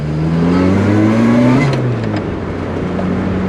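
Lotus Exige S engine accelerating onto a motorway at twilight, heard from inside the car: a loud, steady climbing drone that rises through the gears with a brief dip at a shift, no talking.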